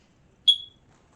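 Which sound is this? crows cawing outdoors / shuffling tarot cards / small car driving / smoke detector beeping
smoke detector beeping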